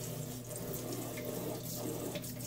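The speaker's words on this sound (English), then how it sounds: "Rinse your hand again. Rinse your color station." Running tap water rinsing a hand during tie-dye work, a steady, close splashing hiss that continues without a break, fairly quiet and heard alone.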